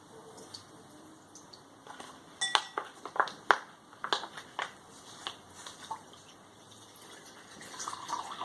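Water from a Sawyer water filter trickles and drips, with a run of irregular splashing drops that cluster in the middle and thin out toward the end, fairly quiet and close.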